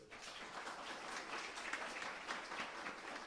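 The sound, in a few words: audience applause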